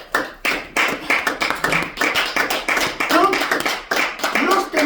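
A church congregation claps rhythmically to acclaim the Lord, a brisk run of sharp, roughly even claps close and fairly loud, with voices mixed in beneath.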